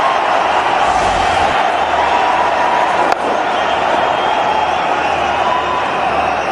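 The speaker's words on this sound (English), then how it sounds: "the crowd excitement when MS Dhoni gets on strike" A cricket crowd roars as MS Dhoni comes on strike in India's match against South Africa: a dense, continuous wall of cheering at high volume with one sharp slap near the middle.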